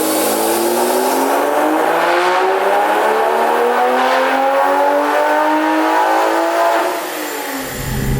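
A Toyota A90 Supra with a straight-pipe exhaust accelerating hard, a loud, close, continuous engine note rising steadily in pitch through the gears before easing off near the end.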